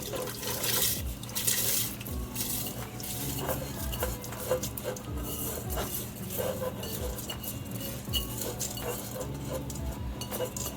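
Liquid including coconut milk pours and sloshes into a pot of rice, accompanied by scattered clinks of utensils and cookware, close by and moderately loud.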